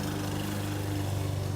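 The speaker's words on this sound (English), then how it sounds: "My wife is being such a nice neighbor and mowing the neighbor's yard" A lawn mower runs steadily nearby as a yard is being mowed, its low engine drone holding even for the whole short stretch with no talk.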